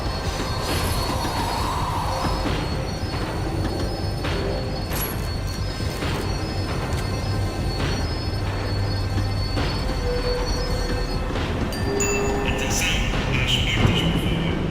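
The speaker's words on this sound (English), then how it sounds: "The tram was slowing down, and I'd only just gotten on board." A video game tram slows to a stop, its wheels squealing on the rails over a steady low rumble and rattling carriage noise throughout, loud and close with occasional higher screeches.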